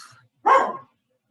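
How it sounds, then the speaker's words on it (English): A single sharp bark from a dog, close and fairly loud, following a fainter sound at the start, then silence. "It's just one dog who's a barker."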